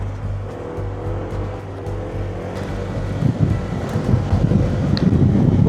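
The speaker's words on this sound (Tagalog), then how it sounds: "Lakas ang hangin." Strong gusts buffet the microphone with low rumbling roar on a mountain backroad, building louder toward the end over a steady vehicle hum.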